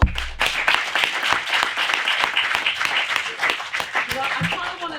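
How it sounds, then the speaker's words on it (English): An audience at the Hay Festival claps together in a busy, moderately loud patter of many hands, with a voice talking over it toward the end. "Give her a round of applause."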